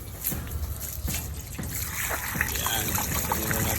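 Water poured from a container into a cooking pot, a steady trickling and splashing stream that builds over a few seconds with faint background noise.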